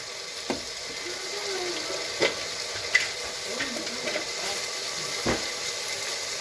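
Food frying in a pot for a Congolese dish of mayebo with dried fish, a soft steady sizzle punctuated by a few sharp scrapes and knocks of a stirring spoon, with faint background voices.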